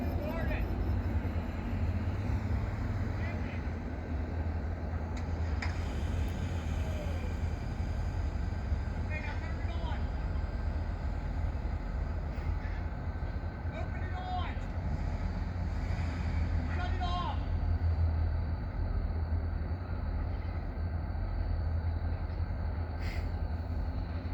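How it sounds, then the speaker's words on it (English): A Wheeling & Lake Erie freight train with EMD locomotives passes on jointed rail in the evening, a steady loud low rumble and roar filling the whole stretch, with faint clanks and squeals above and a voice talking now and then. "Here comes our train."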